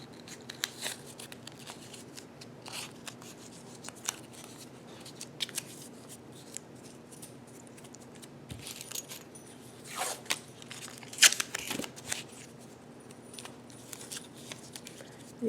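Sticky tape is pulled and crinkled as a fork is taped face up onto a stack of pennies, producing faint scattered rustles, tears and small clicks close by.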